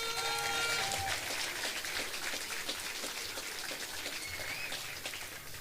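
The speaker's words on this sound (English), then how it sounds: "so a big cheer for 3 or 4 of them" A crowd at a schools' Gaelic match, Colaiste Einde Galway versus St Mary's Newport, claps and cheers steadily for the helpers for several seconds. The dense applause runs throughout at a fairly even level.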